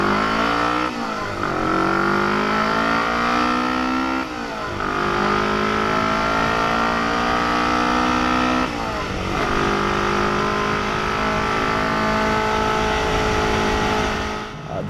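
A 1969 Honda CB350 custom cafe racer motorcycle engine while riding, loud and close, with a steady buzzing roar that climbs in pitch through the gears and dips briefly at three shifts.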